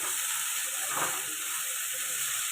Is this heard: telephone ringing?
no